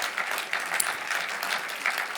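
Audience applause at the Grand Prix Syntec Conseil 2025 ceremony, a moderate, even patter of many hands clapping at some distance, with a few sharper individual claps standing out.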